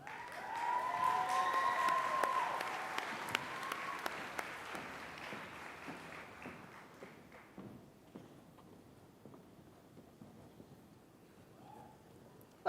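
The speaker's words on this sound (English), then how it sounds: "Can we have a big round of applause?" A crowd applauds cosplayers at an AVCon 2013 cosplay competition, loud dense clapping that builds, holds for a few seconds and then thins into scattered claps and fades.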